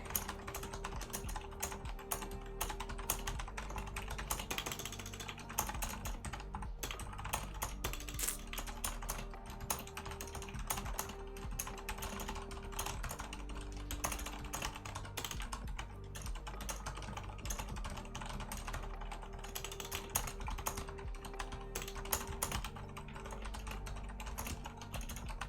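Someone types steadily and quickly on a computer keyboard, the clicks coming fast and close and continuing the whole time without speech.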